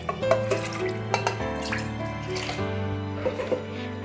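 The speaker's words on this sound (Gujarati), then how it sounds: "હવે આપણે એક નાના ગ્લાસ જેટલું પાણી એડ કરીશું" A small glass of water is poured into a pressure cooker holding soaked, washed mixed dal, giving a short close splash and trickle with some clinks and drips, followed by steady low hum and no speech.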